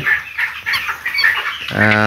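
A crowd of thirteen-day-old broiler chicks suffering in intense heat chirps and clucks continuously up close, with a brief louder harmonic call near the end.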